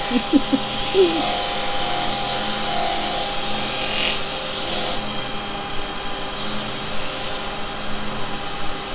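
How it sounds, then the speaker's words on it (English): Sandpaper rubs against a wooden hummingbird piece spinning on a woodturning lathe, a steady, continuous close hiss of abrasion that runs throughout with only slight shifts in tone. "I'm going to just do a quick sand on the outside of this"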